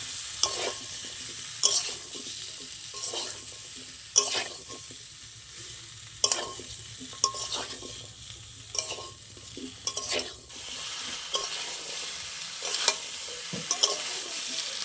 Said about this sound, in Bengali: এবার কুমড়োটা একটু ভালো করে মশলার সাথে মিশিয়ে নেব।